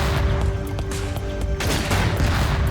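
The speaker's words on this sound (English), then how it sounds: "Here's the gunman. The bullets that I dodge." Gunfire from a gunman in the video game Lethal Tactics: a dense, sustained barrage of shots with no clear gaps, loud and close against a constant rumbling backdrop.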